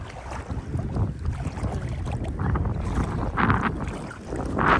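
Strong wind buffets the microphone outdoors by Orava Lake in Slovakia, a continuous rumbling roar with gusts that swell louder toward the end.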